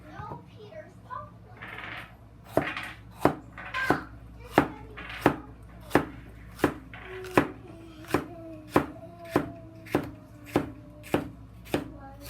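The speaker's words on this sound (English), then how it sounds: "The meat, we will cut the pork, and we'll cut it very." A knife chops pork on a cutting board in about fourteen sharp, regular knocks that quicken toward the end, while people talk in the background.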